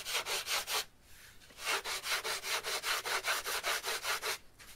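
80 grit sandpaper rubs across balsa wood in quick, steady back-and-forth strokes, a close, rhythmic scratchy rasp with a brief pause after the first few strokes, then a longer even run.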